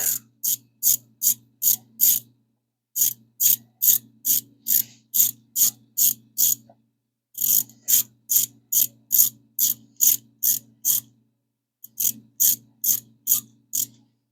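A ratchet wrench clicking in rapid, regular bursts of a dozen or so clicks each, loud and close, separated by short pauses while an intake manifold is fabricated.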